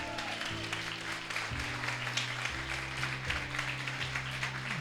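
Church congregation applauding the good shepherd during a sermon, steady clapping from many hands throughout while sustained organ or keyboard chords play underneath.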